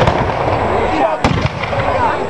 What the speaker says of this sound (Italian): Sparate questo cannone.